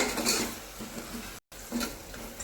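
A spoon scrapes and clinks against a pan of cowpea curry with chili powder in a few irregular strokes, with a faint sizzle underneath and a brief dropout midway.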